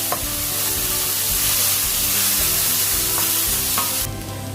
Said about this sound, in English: Fry these beautiful flavours together until you start to see